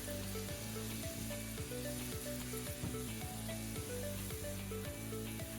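Fresh chopped rosemary browns in a pan, giving a faint, steady sizzle that continues without a break.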